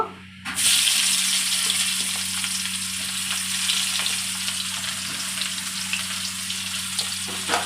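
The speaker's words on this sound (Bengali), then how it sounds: "এবার এই পেঁয়াজ কুচি দিয়ে দেবো" Chopped onions dropped into hot oil with bay leaves and whole garam masala, a sudden loud sizzle bursting in and then holding as a dense, steady frying hiss close up with occasional light stirring underneath.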